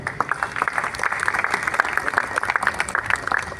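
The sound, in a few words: audience applause for tabla player at music festival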